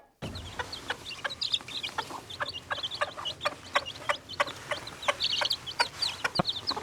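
Chicks peck at finely crumbled food, making sharp little taps scattered irregularly alongside high chirps, close by and fairly busy throughout.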